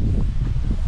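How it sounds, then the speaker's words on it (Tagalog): Low, blustery wind rumbling against the microphone in hot weather, a brief steady roar with slight gusting. "Mainit dito pero mahangin."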